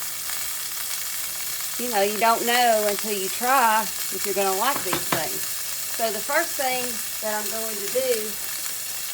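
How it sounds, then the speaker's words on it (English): Burgers fry in a cast iron pan with a steady, close sizzle that runs under a person talking the whole time. "I'm sorry if you hear the burgers in the background, but they're in the cast iron going."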